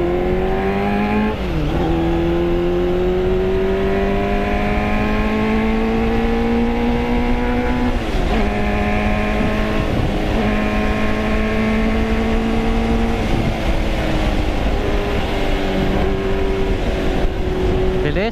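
A 1989 Yamaha FZR400R inline-4 motorcycle engine screams close by, rising through revs in long climbing pulls with brief drops between gear changes, loud and continuous.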